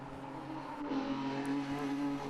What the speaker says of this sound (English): David May turns his way with the big Nissan all the way through Agostini.